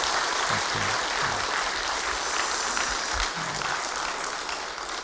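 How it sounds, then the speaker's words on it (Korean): Warm welcoming applause from a church congregation at a Friday evening service, steady clapping that fills the room and fades slightly toward the end. "같이 우리 따뜻한 마음을 모아서 우리 환영의 박수 한번 먼저 하셨으면 좋겠습니다"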